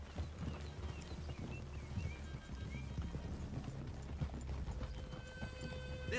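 In the video game Red Dead Redemption 2, horse hooves clip-clop steadily at a walking pace, with an occasional whinny, against a low ambient background.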